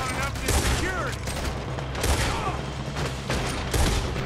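Dense, continuous gunfire from a Red Dead Redemption shootout, with overlapping shots crackling loudly and steadily throughout.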